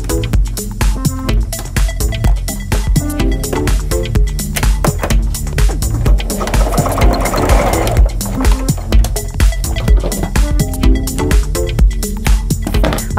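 A sewing machine stitches a summer dress made from a shirt, giving a continuous rapid mechanical rattle that runs loud and steady for the whole stretch, with no talking.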